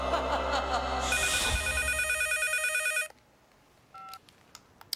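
Telephone ringing with a steady trilling electronic bell for about three seconds, loud and close under background music, then cutting off to near quiet with a few small clicks and beeps.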